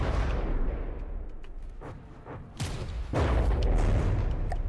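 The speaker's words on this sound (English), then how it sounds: "I swear we're firing faster than we were." Heavy ship guns in the naval combat game From the Depths fire in deep, booming blasts, with a burst of loud shots near the start and a sustained rumbling barrage in the second half.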